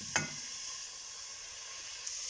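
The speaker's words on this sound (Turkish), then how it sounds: "Bir, bir süre karış kavuruyorum." Steady sizzling of grated carrots being sautéed in hot oil, a continuous bright hiss with a brief clatter near the start.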